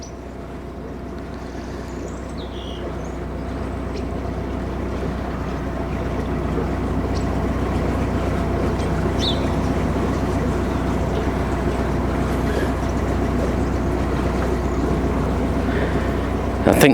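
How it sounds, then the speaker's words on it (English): A narrowboat coming in, its engine a steady low rumble with strong bass hum that builds slightly over the stretch, mixed with wind and water noise outdoors. "I think there's a boat coming in."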